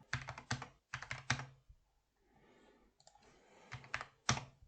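Keys clatter on a computer keyboard while an Excel formula is typed, coming in close, quick bursts of clicks separated by short pauses, with a faint rustle in the gap.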